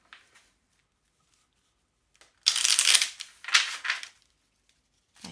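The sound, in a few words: shuffling Belline oracle cards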